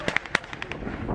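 Sharp pyrotechnic blasts crack in quick succession at a wartime reenactment arena, several close bangs followed by a rumbling, crowd-filled tail with a voice talking.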